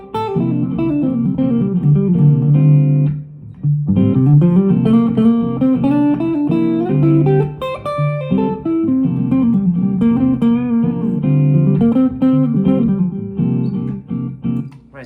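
An electric guitar plays a natural minor solo over a looping chord progression, fluid melodic runs and bends riding above a steady rhythmic backing, loud and continuous with a brief drop near four seconds.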